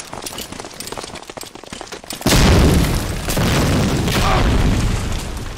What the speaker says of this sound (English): I'm gonna nade in between.